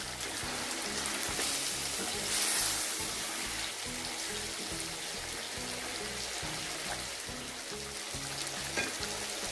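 Chicken handi masala roasting (bhunai) in a pan gives a steady, close sizzle and hiss throughout, with a low rhythmic throbbing underneath and no talking.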